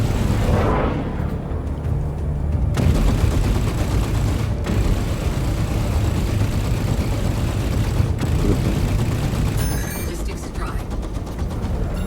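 Gunfire from an enemy shooting from behind in a video game at a beach map, a dense, continuous stretch of game sound with shots and mechanical clatter mixed under background audio.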